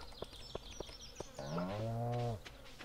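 A cow in the farming video game Stardew Valley gives a single long, loud moo, preceded by a few soft periodic ticks of game ambience, with no talking.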